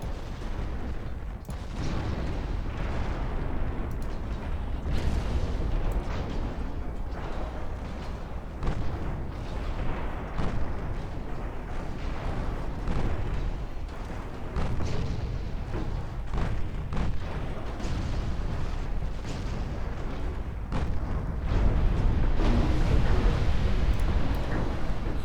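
Naval high-explosive shell fire in Ultimate Admiral Dreadnoughts, a battleship game: loud, continuous rumbling cannon booms and bursts rolling on without pause, dense and heavy throughout.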